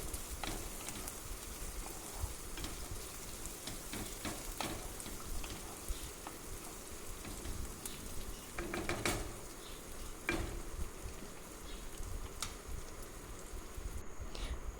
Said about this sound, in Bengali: পেঁয়াজটা ভালো করে একটু ভাজা হয়ে যাচ্ছে।